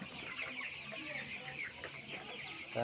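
Chickens on a poultry farm cluck softly nearby, a scattered mix of short calls over a faint background hum.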